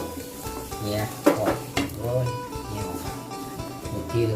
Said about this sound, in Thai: แกงเดือดแล้วลงเลยแล้วครับลงเลย